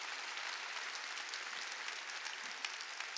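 A church congregation claps steadily during a Sunday worship service, a dense, even wash of applause from a large crowd heard at a moderate distance with no voices over it.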